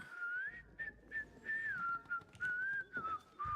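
A character in the video game Atomfall whistles a wavering, meandering tune, a single clear close whistle with short breaks between phrases.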